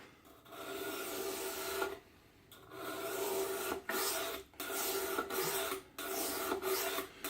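A knife blade is stroked back and forth on a sharpening stone in close, raspy scraping strokes, about eight of them with short gaps between.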